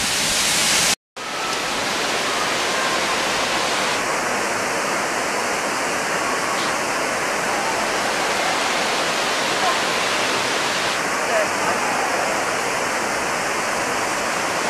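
A steady, loud roar of falling water at the Eden Project rushes continuously, broad and unbroken, with a brief drop-out near the start.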